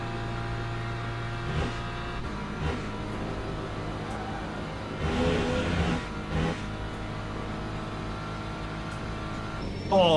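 Race car engine droning steadily at Spa in the Le Mans Ultimate sim, a sustained harmonic whine with gear shifts around the middle and a rising rev at the end, no voices.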